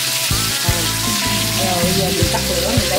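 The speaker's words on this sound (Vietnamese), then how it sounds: "Chiên vàng các bạn đó, nhớ chiên từ từ lửa nha các bạn" Quail fry in a pan of oil over low heat, giving a close, steady sizzle broken by periodic bumps and clinks as the pieces are moved around.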